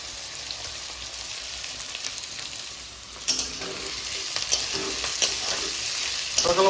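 Onion, green chili and tomato fry in a pan with a continuous close sizzle, broken by louder scraping stirs and clatters toward the end, with no voices.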